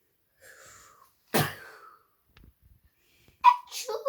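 A single sharp, close sneeze from a voice imitating a dog during a read-aloud of a children's story, with faint breathy sounds before and another short burst after.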